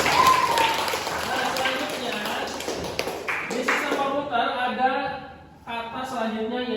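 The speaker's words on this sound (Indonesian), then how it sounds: "tepuk tangan dulu" Classroom applause, a burst of children clapping that tapers off, with a teacher's voice talking over and after it.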